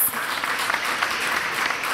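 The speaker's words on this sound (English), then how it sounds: "Huge round of applause, please." Brief burst of audience applause at an auto industry conference as a company chairman is invited on stage, a dense wash of clapping at moderate level.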